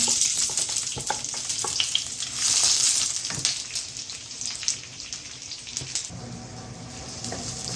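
Diced onion frying in ghee or oil in a pan, a steady sizzle with scattered clinks and stirring scrapes, close, a brief louder hiss midway.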